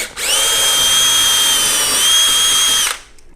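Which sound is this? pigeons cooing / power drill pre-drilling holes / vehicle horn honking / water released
power drill pre-drilling holes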